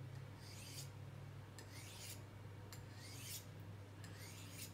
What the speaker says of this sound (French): il faut toujours faire une action de coupe du fusil